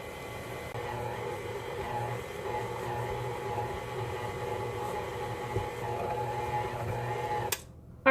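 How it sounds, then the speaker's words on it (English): Stand mixer churning pizza dough on its stir setting, a steady low motor hum with a rhythmic whirring that runs evenly for several seconds, then cuts out abruptly near the end. "Just turn it on stir until it mixes and combines."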